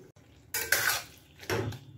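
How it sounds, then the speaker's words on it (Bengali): A pot of tomato, dried mango, jujube and dates for a chutney being stirred and covered with a lid, two short metallic clanks of pan and lid, close and distinct. "ভালো করে নাড়াচাড়া করে একটা ঢাকনা দিয়ে ঢেকে দেব"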